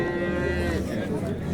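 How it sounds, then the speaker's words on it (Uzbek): A cow moos loudly and steadily at a livestock market, its low drawn-out call filling the short moment as faint voices murmur in the background. "Mana sigirni ko'rinishlari"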